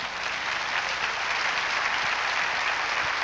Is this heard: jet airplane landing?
no